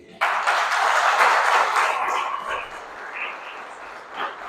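Church congregation applauding together, a dense, steady wash of clapping that starts abruptly, holds loud for a couple of seconds, then gradually thins and fades.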